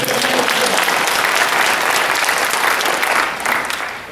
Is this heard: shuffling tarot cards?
no